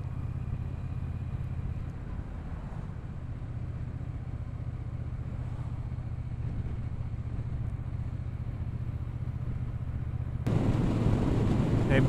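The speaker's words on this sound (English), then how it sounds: "Should sound nice with the new pipes on." Triumph T120 Bud Ekins 1200cc motorcycle fitted with new exhaust pipes, engine running with a steady low throbbing drone throughout, swelling louder and rougher near the end.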